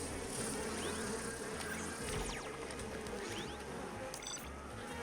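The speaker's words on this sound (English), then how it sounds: "Oh no, I forgot about the bees." Bees buzzing from a bee trap in Evil Genius 2, a dense, steady, close swarm drone with no pauses.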